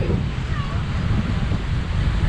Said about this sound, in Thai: ทะเลตรงนี้นะคุณผู้ชมมันจะเป็น อ่าวคลื่นมันจะไม่แรง